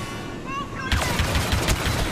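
An explosion and gunfire in the Star Wars Battlefront II story campaign on Sullust, where a sudden loud blast gives way to rapid crackling bursts of shots over game music.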